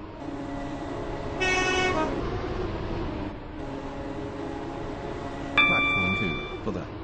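A video game train rumbles steadily with a brief horn-like tone partway through and a sharper electronic chime near the end as it approaches a station, sounding close and continuous.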